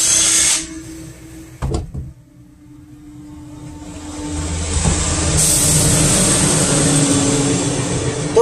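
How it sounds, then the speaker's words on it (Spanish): A power tool spins on the rocker arm bolts of a Shineray Thor motorcycle engine. A loud initial burst cuts off, then a long, rising mechanical whir and rattle builds and holds steady close by. "quitar los balancines vamos a utilizar un dado 12."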